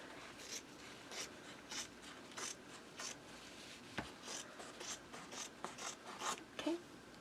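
Scissors trim excess paper around a handmade mini album cover, making quiet, irregular snips and scratchy rubs in short bursts with no talking.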